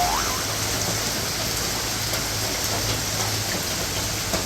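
A downpour of heavy rain hisses steadily and loudly on surfaces nearby, with a faint low hum running underneath and no one speaking.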